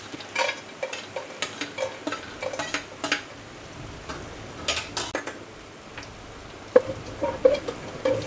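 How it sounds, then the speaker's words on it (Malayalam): Cashew nuts frying in ghee in a pan for Kerala chakka payasam, with a soft steady sizzle under repeated scraping stirs and light clinks of a spoon against the pan, close and fairly quiet. "അണ്ടിപ്പരിപ്പ് വറുത്തെടുക്കാം"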